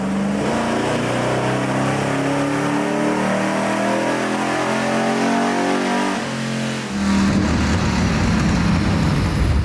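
A Chevy 454 SS big-block truck engine revs hard on a dyno, a loud, steady, close roar that drops briefly near the end and then surges back up even harsher, with no voices.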